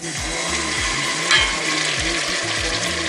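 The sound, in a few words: stew frying in a pan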